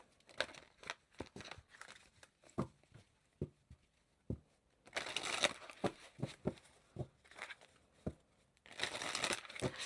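Cards shuffled repeatedly, a series of quick riffling and slapping bursts with crisp papery crinkles, fairly quiet and close, with no talking.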